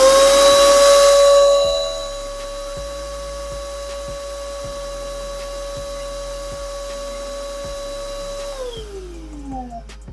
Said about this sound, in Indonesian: sekarang kita coba akan melihat berapa tingkat kebisingan dari vacuum cleaner ini ya